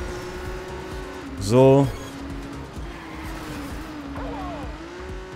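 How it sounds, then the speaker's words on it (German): A car in the racing video game TrackMania Turbo hits a bump and goes into a drift, with a steady engine drone, one loud, brief tire squeal, and a voice speaking briefly. "Jetzt kommt der Huckel, dadurch kommen wir in Drift."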